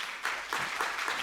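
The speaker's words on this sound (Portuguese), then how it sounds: "convidamos a todos a saudarmos a conferencista com uma salva de palmas" A conference audience claps for the speaker in a short, moderate burst of applause that fills the whole moment without voices.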